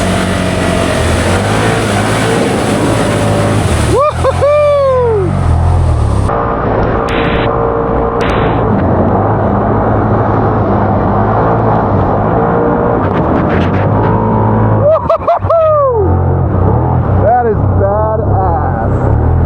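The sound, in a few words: Can-Am Outlander XMR 850 ATV driving through mud in high range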